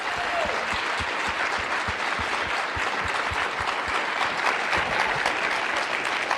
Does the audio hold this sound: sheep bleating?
no